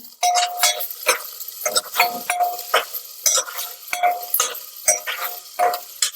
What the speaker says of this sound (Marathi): आणि लगेचच ह्याच्यामध्ये आपण कांदा घालून घेणार आहे